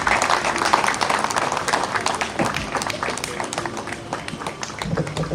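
Audience applause at a formal gathering, a dense, steady wash of many hands clapping for the full length, loud and continuous with a few sharper individual claps standing out.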